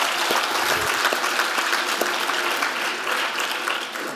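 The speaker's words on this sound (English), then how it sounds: "Let's clap it up for Oliver" Sustained applause from an audience at a community bridge builders award event honoring the chair of the Miami-Dade County Board of County Commissioners, steady dense clapping filling the whole stretch at a fairly loud level.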